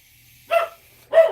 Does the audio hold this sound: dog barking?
yes